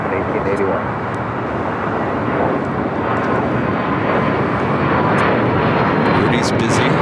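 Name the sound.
American Airlines jet on the runway at LAX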